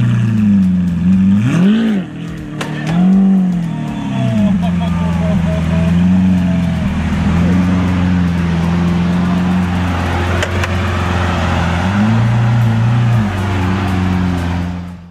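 A loud Lamborghini supercar engine drones steadily as it drives through city streets, rising in pitch with short revs near the start and again later, while a voice talks over it throughout.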